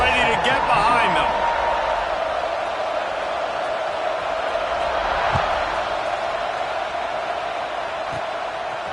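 Steady football stadium crowd roar before a Clemson kickoff, a broad continuous wash of many voices that stays loud and even throughout, with a commentator talking over it early on.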